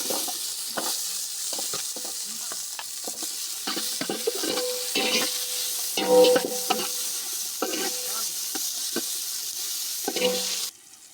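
Onions frying in a pan for a village-style chicken curry with mustard seeds and urad dal, a steady close sizzle broken by repeated stirring scrapes and clatters, with no talk.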